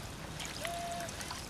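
A working restroom sink in a Fallout 4 settlement, a faint steady trickle of running water with a thin whistle-like tone in the middle, quiet and short, with no voices.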